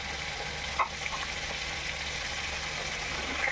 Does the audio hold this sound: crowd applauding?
no